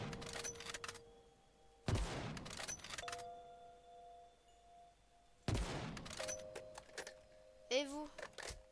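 Pistol gunshots in a Minecraft-style survival game, fired at a pillager camp: three sharp, loud cracks spaced a few seconds apart, each followed by ringing game tones and clatter, with a brief rising electronic chirp near the end.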